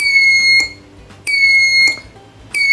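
Electronic buzzer in an ultrasonic distance sensor circuit with an LED, beeping loud and close in regular on-off pulses, three shrill tones each lasting about 600 milliseconds.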